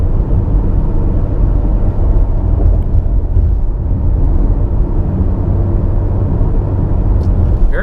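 A 2022 Mitsubishi Outlander in tarmac mode on a twisty road, riding on 20-inch wheels: steady, loud cabin rumble of engine, tyres and road noise without a break.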